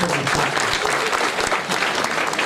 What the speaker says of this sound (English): Now, always it's good to clap.